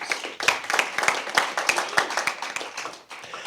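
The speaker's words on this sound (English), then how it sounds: "So one more round of applause for both teams" A debate audience applauds both teams at a 2024 debate round, dense clapping that holds steady for a few seconds and thins slightly toward the end.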